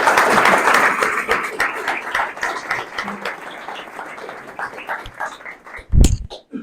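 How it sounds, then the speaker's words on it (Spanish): An audience at a Spanish-language lecture event applauds, with dense clapping that thins and fades over several seconds before a single low thump near the end. "y un aplauso, por supuesto"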